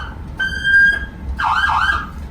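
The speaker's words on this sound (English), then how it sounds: "You got air horn." Two loud blasts of the air horn on a 2012 Terradyne Gurkha armored truck, the first steady, the second wavering, close and brash over a low engine rumble.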